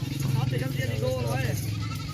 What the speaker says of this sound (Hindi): बड़ी बकरी है, सही है, बच्चा भी साथ है।